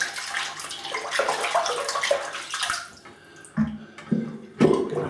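Water from a tap splashing into a sink as hands are wetted before a bay rum shave, a close, continuous run followed by a few separate splashes and drips.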